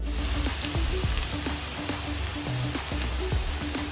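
Chopped ginger and garlic sauté in a hot pan, giving a constant, even sizzle and crackle at moderate volume, with soft background music.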